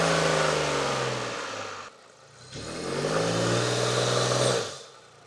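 A 2025 Nissan Rogue's three-cylinder engine runs with a steady mid-pitched drone, dips briefly and quiets, then rises again in a revving swell before easing off near the end.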